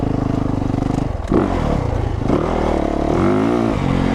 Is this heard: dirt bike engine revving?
yes